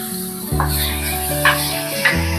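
A wet moringa-leaf and sesame chutney hits hot oil tempering and sizzles, with a few tonal clinks and scrapes of stirring against the pan at intervals.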